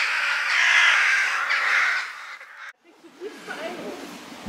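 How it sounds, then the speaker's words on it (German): Crows caw at dawn around a tent at a lakeside campsite on the Müritz, a loud harsh chorus that fills the air and then breaks off, leaving a few quieter calls over faint background. "Die Krähen spielen verrückt hier."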